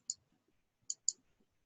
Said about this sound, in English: All right, so I'm going to click on data.